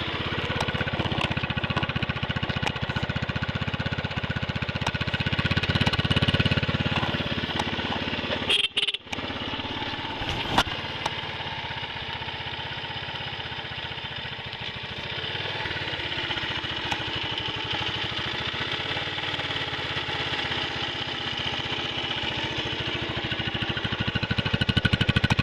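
A 1986 Honda TLR200 Reflex motorcycle engine, fed from a remote tank to the carburetor bowl, runs at a steady idle nearby, with a brief break and a few sharp clicks partway through.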